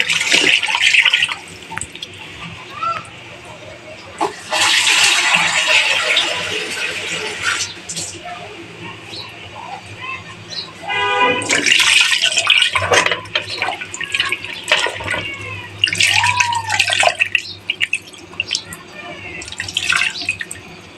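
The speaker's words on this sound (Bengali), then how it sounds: "একসাথে পানি দিয়ে দিলাম" Water poured into a pot of marinated meat and potatoes, a near, steady splashing and trickling pour running through most of the clip with brief breaks, with some background talk.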